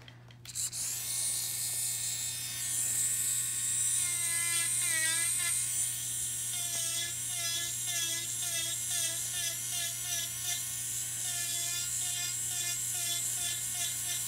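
A furry carbide burr on a small high-speed rotary drill grinds a callus during foot care, a steady buzzing whine with wavering pitch as pressure changes, continuous for the whole stretch over a constant low hum.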